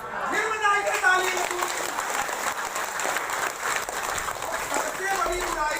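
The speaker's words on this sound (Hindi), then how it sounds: "फिर बजाइए ताली।" An audience at a spiritual talk in a pilgrims' rest house claps together in a dense, steady burst of applause, with some voices mixed in near the start.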